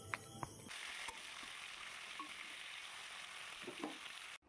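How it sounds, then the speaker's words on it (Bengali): Fish sizzling steadily in hot oil, a continuous bright crackle with a few clinks of a spatula or pan near the start, close and constant until it cuts off at the end. "আর এখানে দেখো তেলে মাছগুলো ছাড়া হচ্ছে, মাছগুলো ভেজে নেব"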